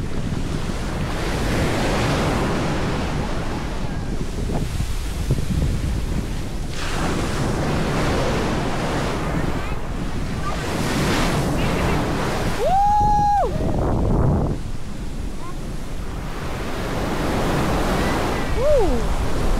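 Large ocean waves break continuously on a Belitung beach, a loud roaring wash with strong wind buffeting the microphone, a brief whistle-like tone cutting in partway through.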